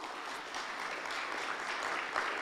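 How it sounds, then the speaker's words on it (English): A crowd claps steadily for a couple of seconds, a dense patter of many hands at moderate volume. "Give you guys a round of applause for that."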